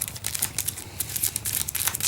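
Playing cards being shuffled back into a small print-and-play deck for the card game 9 Card Siege, a close series of crisp papery riffles and crinkles with no voices.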